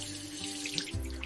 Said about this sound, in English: I turn on the water.